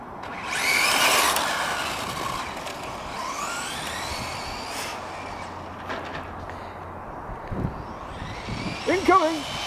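A Traxxas Ford GT RC car with a brushless VXL motor runs outdoors, its motor whining and rising in pitch as it speeds past in bursts, with a voice speaking near the end.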